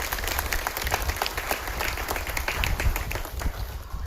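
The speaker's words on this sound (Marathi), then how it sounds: "सर्वांनी टाळ्या वाजवून देवाचं स्वागत करायचं आहे" A crowd claps steadily in welcome at a Hanuman and Vitthal-Rukmini idol consecration ceremony in a village. The dense applause runs for the full stretch at an even, moderately loud level, with no talk over it.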